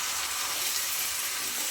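Black pepper chicken cooking in a pan with yogurt, salt and meat juices gives a steady, soft, even sizzle that runs without a break and with no voices.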